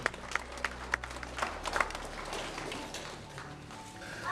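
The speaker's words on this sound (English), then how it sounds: "a quick round of applause for everybody that came yesterday" Wedding guests in a hall give a brief, scattered round of applause, a few sharp claps standing out at first before the sound thins into a soft, murmuring wash of crowd noise.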